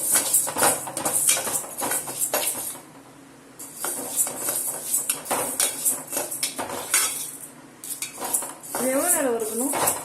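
Metal spoon scraping and clinking against a pan while lentils are dry-roasted for kootu, a rhythmic, fairly loud stirring with faint sizzling underneath and no speech.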